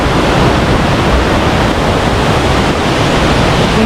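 Flowing river water near Dhutpapeshwar temple in Rajapur makes a loud, constant broadband rush, close to the microphone, like a waterfall or surf, with no talking.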